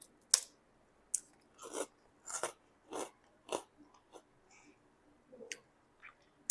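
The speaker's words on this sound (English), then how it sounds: "I think you can hear the crunch." Sharp, crisp crunches come in a quick irregular series, close up, as freeze-dried beet chips are bitten and chewed, in a quiet room.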